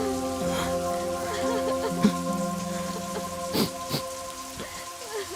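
Steady rain patters under sustained musical tones, with a few sharper drops standing out.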